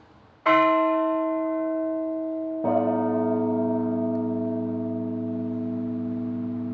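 The two largest bells in the Holy Trinity Cathedral bell tower in San Francisco ring loud and close. One rich, humming strike is followed about two seconds later by a second deeper strike, and both long tones blend and sustain.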